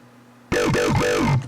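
Heavily distorted synth bass run through tube-style Camel Crusher distortion, hitting abruptly after a quiet lead-in with wobbling, sweeping tones for about a second before cutting off.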